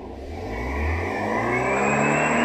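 Car running on LPG with the throttle opened wide, engine revving up and holding a rising steady drone for a couple of seconds, close and fairly loud, no talk.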